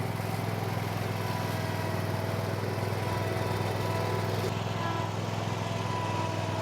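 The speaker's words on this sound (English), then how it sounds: "Well, it's a weed whipping machine." A string trimmer mounted on a riding mower's deck cuts weeds, giving a steady droning engine whine at moderate distance with no change in pitch or pace.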